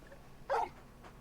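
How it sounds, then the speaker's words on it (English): A single short whimper from the large dog Torgal in Final Fantasy XVI, a brief, high, strained vocal yelp standing alone over quiet game ambience. "You're just a big puppy, aren't you? A very big puppy."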